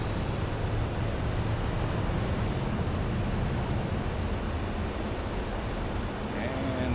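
Grumman F-14A Tomcat jet engines at full power in Microsoft Flight Simulator roar as a dense, steady broadband rush, loud and unbroken throughout.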